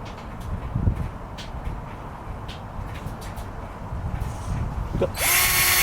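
Black + Decker combo drill driving a screw into soft wood, a low grinding motor rumble with scattered clicks that ends in a sharp, loud high-pitched whir near the close.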